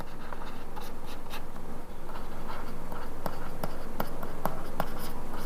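Pen writing on paper up close, with a continuous scratchy rasp broken by several sharp taps and clicks of strokes toward the end.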